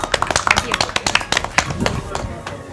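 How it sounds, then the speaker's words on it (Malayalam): Lively clapping from a group, many quick overlapping claps in a steady burst, fairly close, with voices mixed in. "നല്ലതുപോലെ കൈയടിക്കൂ"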